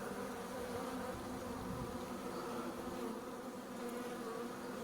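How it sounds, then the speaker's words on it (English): A dense, continuous buzzing hum of many honey bees flying out for cleansing flights surrounds the listener, close and steady with no pauses. "when a bee whizzes by your ear"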